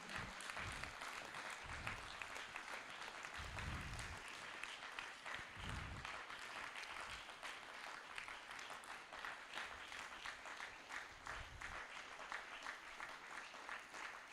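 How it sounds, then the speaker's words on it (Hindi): Sustained audience applause at an International Yoga Day yoga session at a university, dense steady clapping that runs unbroken throughout at moderate level, with occasional low thumps beneath. "आपकी तालियां बता दें कि आप ऊर्जा से भरपूर हो चुके हैं।"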